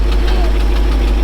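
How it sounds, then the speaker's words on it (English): Engine of a 1970 Ford wrecker running with an exhaust leak, a loud, close, steady low rumble with a knocking, puffing texture throughout. "The exhaust leak is terrible."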